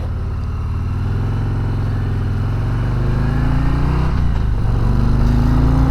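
Harley-Davidson Road Glide ST motorcycle accelerating hard, its V-twin engine note rising steadily in pitch and loudness, with a brief dip at a gear change before climbing again; close, loud and continuous, with wind rush underneath.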